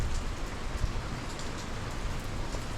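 Light, steady rain falling continuously during Tropical Storm Nicholas in Houston, a soft even hiss of drops on surfaces with no thunder, heard alone.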